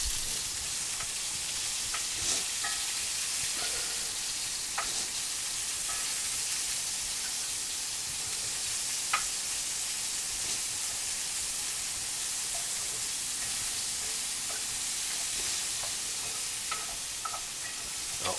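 Vegetables sauté in a hot pan for a pot roast, giving a steady broadband sizzle with occasional faint clicks of stirring throughout and no talking.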